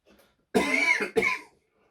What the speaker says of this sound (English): There's that coughing coming in